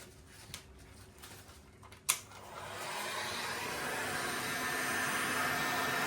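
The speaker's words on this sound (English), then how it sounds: "with my heat gun, I'm just going to blow it around" Heat gun blowing hot air over poured molten copper paint: after a few clicks and a sharp knock, a steady whooshing airflow starts and holds as a broad, even roar to the end.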